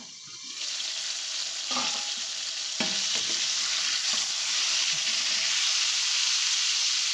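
Homemade pizza sauce sizzles steadily in a pan over a low flame, a continuous close frying hiss with a few soft stirring scrapes, no voices.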